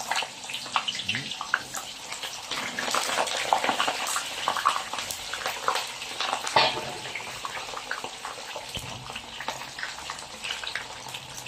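Potatoes dropped into hot oil fry with a steady bubbling sizzle that runs the whole time, loudest in the middle stretch, while a person talks intermittently over it.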